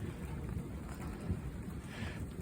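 Rain falls steadily during a Missouri storm with low rumbling thunder underneath, a quiet, continuous wash of sound with no talk.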